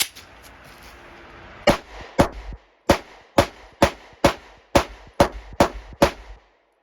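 Glock pistol fired at a range with an ETS magazine, about ten sharp loud shots with brief echoing tails, spaced roughly half a second apart in a steady string, with no talking.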